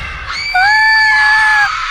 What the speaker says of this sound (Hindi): इतनी जोर से क्यों चिल्लाई तू?